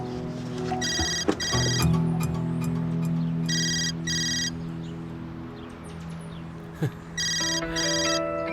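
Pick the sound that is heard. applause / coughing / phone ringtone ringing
phone ringtone ringing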